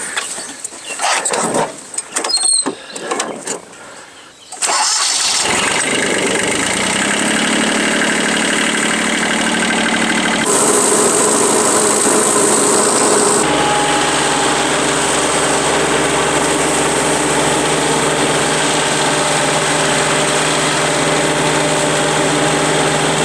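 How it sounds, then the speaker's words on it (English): A small compact tractor fitted with a flail mower starts after a few sputtering cranks, then settles into a steady loud running drone that shifts pitch as the engine revs up and changes load. "We're going to get the tractor started and we'll give it a try."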